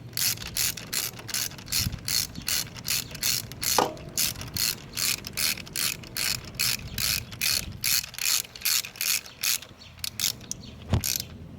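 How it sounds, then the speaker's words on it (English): A hand ratchet with a 12mm socket tightens bolts on a 2003-08 Hyundai Tiburon slave cylinder bracket, giving a steady run of close, rapid clicking strokes with brief pauses and a couple of metallic knocks. "gonna go ahead and tighten them all the way down with your ratchet now, using a 12mm socket."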